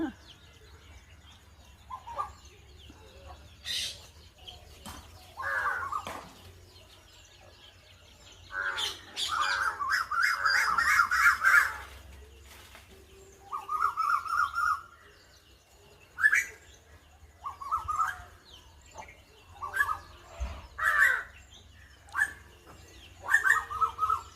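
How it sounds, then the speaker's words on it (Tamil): Two Asian koels call from a distance outdoors, repeated rising whistled notes in bursts, with other bird chirps and occasional voices underneath. "அதில் ரெண்டு கருங்குயில் இருக்குது பாருங்கள் ரெண்டுமே சவுண்டு கொடுக்குது"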